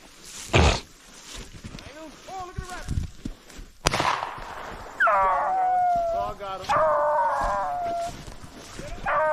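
A hunting dog on a rabbit hunt in snow howls and bays in long wavering cries after a few sharp barks, close and loud, with people talking in between.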